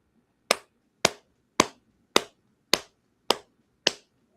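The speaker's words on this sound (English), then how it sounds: "Slow clap because you deserve it." Seven slow, evenly spaced hand claps ring out sharply one by one in a quiet room, each crisp and isolated with a short decay.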